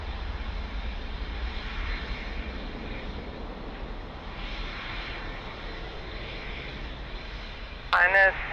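An airliner lands on runway 02 at Lisbon Airport, with a low, steady, distant engine rumble running throughout and a short burst of radio voice near the end.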